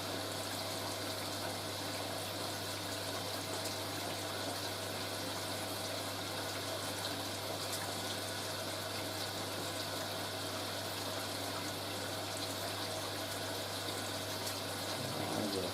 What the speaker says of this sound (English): we're filling for second rinse